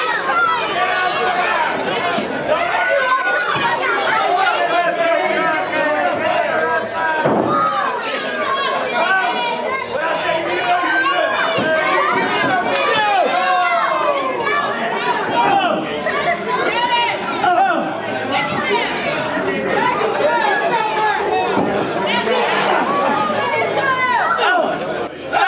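Steady crowd chatter at an indoor wrestling event, a dense, continuous hubbub of many voices with occasional louder shouts, holding at an even level throughout.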